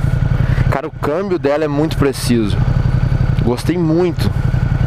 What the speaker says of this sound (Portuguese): Imponente essa moto. Olha o barulhão dela.